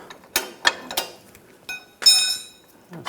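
Nut being removed from a rear lower control arm bolt on a 2011-2018 Ram 1500, with a series of quick metallic ratchet clicks and clanks in short bursts, close and distinct.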